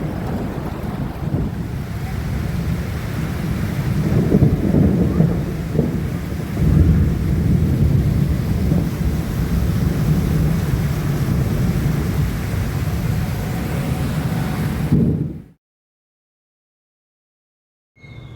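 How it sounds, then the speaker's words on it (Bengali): Heavy rain in a storm, with a dense, roaring downpour and gusting wind. The sound is loud and continuous for about fifteen seconds, then cuts to silence near the end. "বাইরেটা দেখো কী হারে বৃষ্টি হচ্ছে, তার সাথে ঝড় আর বাজ পড়ছে"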